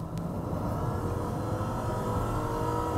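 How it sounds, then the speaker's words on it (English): A Toyota Crown with a 4.6 litre V8 accelerating, heard as a steady, fairly quiet low engine rumble from inside the car, with no talking. "I get the V8 under my accelerator pedal"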